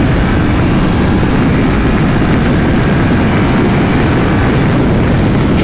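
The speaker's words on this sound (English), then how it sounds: "So let's test out the passing power." A 2020 BMW F900XR motorcycle, 99 horsepower and close to 500 pounds, pulls hard in 4th gear from 6,000 RPM, its engine a loud, steady broadband roar mixed with heavy wind rush for the whole stretch.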